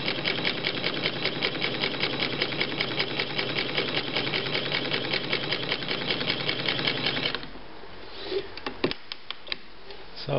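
A 60-year-old Domestic Rotary model 153 sewing machine stitching at a fast, steady mechanical rhythm for about seven seconds, then stopping, followed by a few light clicks and handling knocks.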